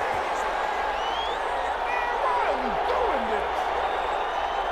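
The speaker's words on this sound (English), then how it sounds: "Well, the crowd doesn't like that." A stadium crowd in the American football video game NFL 21 roars with a loud, dense, sustained wash of noise after a penalty call, with scattered shouts and whistles rising through it.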